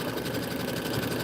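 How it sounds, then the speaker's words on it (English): A sewing machine runs steadily while stitching an autumn quilt border, with a constant close mechanical hum and whir and faint thread-twisting texture throughout, with no talk. "You could hear the thread like kind of twisting."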